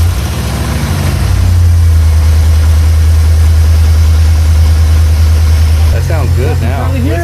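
The Raven's engine idles with a steady, loud low rumble, its tone shifting slightly partway through as it keeps running, while people talk over it near the end.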